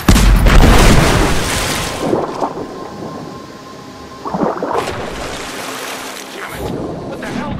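Heavy explosions in Rise of the Tomb Raider, a loud deep boom at the start rolling into rumbling debris, followed by a second blast a few seconds later, with no speech over them.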